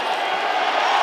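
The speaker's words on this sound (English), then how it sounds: "Listen to this audience." A packed UFC arena crowd roars and cheers for a fighter drinking beer from a shoe, a dense, continuous wall of voices with no pauses in the brief moment.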